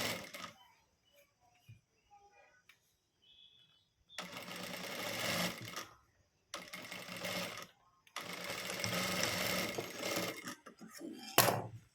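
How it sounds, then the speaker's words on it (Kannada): Sewing machine stitching blouse fabric runs in three bursts of steady mechanical whirring separated by quiet pauses, with faint handling clicks and rustles in between and a short final burst at the end. "ನೋಡಿ ಈ ರೀತಿ ನಾವು ಹೊಲ್ಕೋಬೇಕು"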